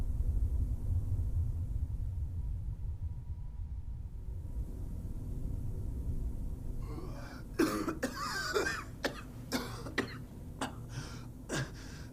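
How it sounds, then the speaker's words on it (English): A character in the video game Fallout 4 gasps and coughs after a quiet low rumble, breaking into a run of sharp, close coughs and throat-clearing bursts in the final seconds. "Gasping, coughing."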